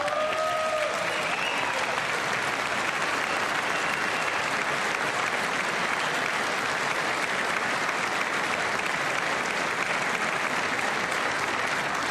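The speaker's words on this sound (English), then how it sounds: "I wasn't sure if anybody even on this side was going to applaud for that" A large audience at a political address claps in sustained, dense applause that stays loud and even from start to finish, with a brief voice heard at the very beginning.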